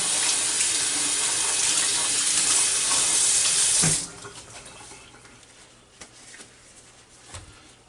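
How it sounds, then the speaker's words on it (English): A whole chicken rinsed under a running kitchen tap gives a loud, steady rush of water for about four seconds, then the flow stops, leaving faint handling noises and drips. "Give it another little rinse in here. Get it extra clean."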